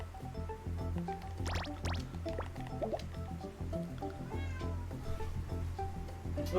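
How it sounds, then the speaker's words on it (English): A cat meows at a door indoors, its calls rising and falling several times over a steady background of music and faint liquid-like clicks. "The cat is right at my door. I'm gonna let her in, and you can all hear her meow."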